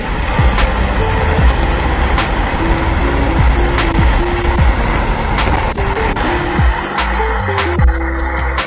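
A Dark Knight dual-motor electric scooter, capable of 63 km/h, accelerates loudly and close by, its motor whine stepping up in pitch over steady road and wind rumble.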